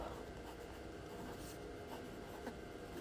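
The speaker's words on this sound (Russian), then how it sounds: "Кстати, сайт еще раз пишу." Soft continuous scratching of a pen or marker writing out a website address by hand during a textured-design master class, steady rubbing strokes close by with a brief louder knock at the end.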